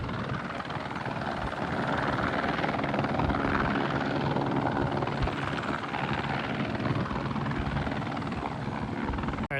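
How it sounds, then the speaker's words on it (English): A helicopter flying over a flood search area, a steady loud rotor and engine roar that holds constant throughout without fading, close overhead and with no voices. "All right, the helicopter took off."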